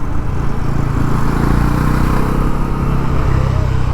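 A Bajaj Pulsar NS400Z motorcycle rides along on the way home after its first service, giving a steady, loud engine drone with constant road and wind noise throughout.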